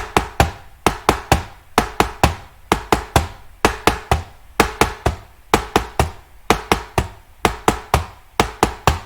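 Tapping imitates an S4 heart sound: crisp close knocks in repeating clusters at a steady pace for several seconds, with no voices.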